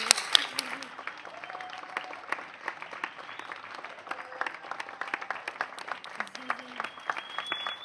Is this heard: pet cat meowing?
no